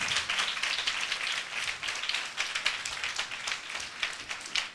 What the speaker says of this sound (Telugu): చప్పట్లు కొట్టి ఆయనకు స్తోత్రం చెల్లిద్దాం